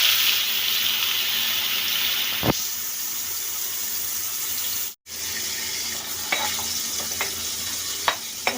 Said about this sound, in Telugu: ఇలాగా మసాలా అంతటిని కూడా ఇలాగా వేయించుకోవాలండి. ఇలాగా ఆయిల్ పైకి వచ్చేంత వరకు కూడా మనం మసాలాని వేయించుకోవాలి.